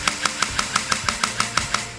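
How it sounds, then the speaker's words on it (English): CYMA JD-002 (SR16-E3) gel blaster with a 460 motor on a 7.4 volt battery, dry firing on semi: about eleven sharp, evenly spaced mechanical clicks roughly every sixth of a second, close and fairly loud with a faint hum beneath. "let's just give it a few dry fire and see how it sounds like"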